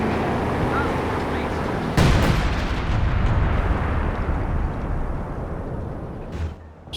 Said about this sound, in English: Sounds like base howitzers is coming in.